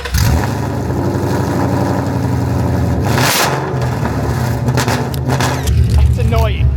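Ford Mustang GT with a loud aftermarket exhaust rumbling at close range, a steady deep roar held for several seconds with a brief rise around the midpoint and a swell near the end.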